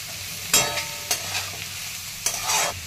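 Onion and garlic sauté with salt in a pan for a chana dal and onion dish, steady frying hiss broken by several sharp bursts of sizzling and scraping as the spoon stirs, close and alone.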